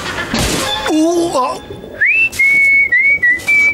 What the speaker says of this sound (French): Pendant que tu étais là en train de siffler